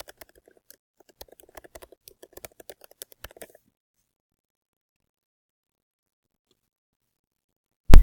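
Rapid, irregular keystrokes on a computer keyboard tap out a login for a teacher account, close and crisp for about three and a half seconds before falling silent, then one loud thump at the very end.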